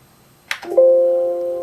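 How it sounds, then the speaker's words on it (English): Windows system bell set off by a Control-G command typed into Tera Term on an Altaid 8800 clone of the Altair 8800: a single short electronic chime with a sharp attack and a sustained tone that fades slowly, heard alone. "it rings the bell in Windows, which apparently is through Teraterm, giving it that command"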